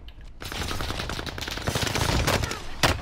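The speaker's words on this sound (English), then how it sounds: "I'm getting shot, dude." Rapid bursts of gunfire in an online shooter video game, loud and dense throughout, with automatic fire and single shots overlapping and a sharp crack near the end.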